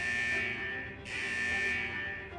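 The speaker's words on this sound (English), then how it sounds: "Is that the central alarm of the vault?" Central vault alarm in Wuthering Waves, a steady electronic buzzer blaring continuously with a brief dip midway, loud and unbroken, no voices.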